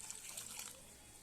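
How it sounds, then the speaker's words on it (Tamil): Water poured from a tumbler into a pot of chopped vegetables for sambar, about two and a half tumblers' worth, making a faint, steady trickle and splash with no talking. "நம்ம தேவையான அளவு தண்ணி ஊற்றிக்கலாம்"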